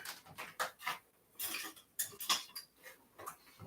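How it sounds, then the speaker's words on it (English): Soup whisking as an ingredient is worked in, a series of quick scraping, clinking strokes of a whisk against the pot coming in uneven bursts, fairly faint and with no talking. "we whisk this in"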